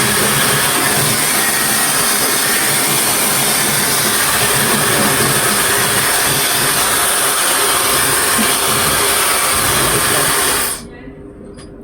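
A hair dryer blowing at full power, a loud, steady, close whooshing roar that holds for about ten seconds and then cuts off abruptly, leaving near silence.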